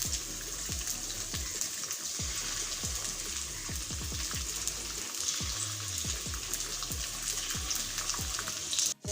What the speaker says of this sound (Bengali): এটাকে ভেজে নিচ্ছি